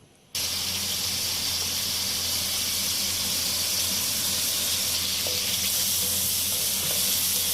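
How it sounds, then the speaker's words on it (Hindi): Chopped large onion frying in oil for a chana masala gives a loud, steady, hissing sizzle that starts abruptly and holds without a break, with no one talking. "देखिए, यहाँ पे हमारी प्याज फ्राई होना स्टार्ट हो गई है।"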